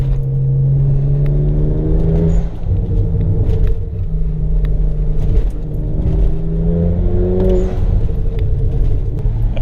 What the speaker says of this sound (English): Can still hear the burble through the exhaust.